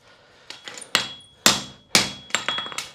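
A farrier's hammer strikes a horseshoe while the heel caulk is worked at an angle, giving about seven sharp ringing blows in an irregular rhythm. The strikes are close and loud, with short decays between them.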